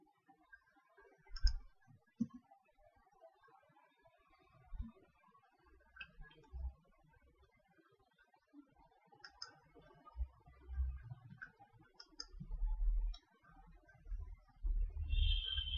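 Scattered computer keyboard key presses and clicks sound close and faint, irregular single taps and short clusters against a quiet background.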